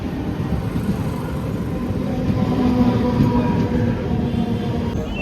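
A Karjat-bound train arrives at the station with a continuous loud rumble and rolling wheel noise, faint squeaks and clatter over it, holding steady throughout with no talk.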